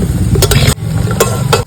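Catla fish roe frying in a spiced onion paste, loud close sizzling with several sharp spatula clacks against the pan and a brief dip midway.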